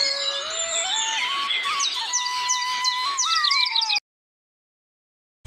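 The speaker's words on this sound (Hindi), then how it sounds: "एक हरे भरे जंगल में सुबह की शुरुआत होती थी। चिड़ियों की चहचहाहट से" Cartoon birds chirp and trill through a green forest at morning, several bright calls overlapping and rising in quick rhythmic phrases, loud and close, alone without voices, before cutting off abruptly into silence.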